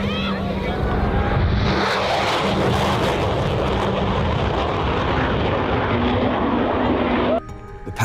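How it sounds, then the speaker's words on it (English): F-18 fighter jets in a high-speed carrier break at about 500 knots give a loud, sustained broadband jet roar that swells and holds for several seconds before cutting off near the end. "An F-18 leads a high-speed carrier break, bringing a section of fighters back to the carrier at 500 knots in a tight, precise maneuver."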